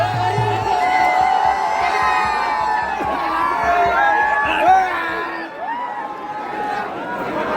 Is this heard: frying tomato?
no